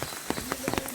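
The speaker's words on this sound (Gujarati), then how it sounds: "અમારે ત્યાં આજ અડધી રાતથી વરસાદ ચાલુ છે" Rain from the first downpour of the Shravan month falls on a village, a brief spell of close, scattered drops pattering on a surface over a soft steady wash.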